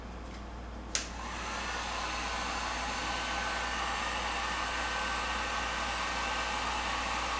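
Heat gun warming vinyl wrap on a car for removal switches on with a click, then blows a loud steady whooshing roar that holds unchanged, with no voices.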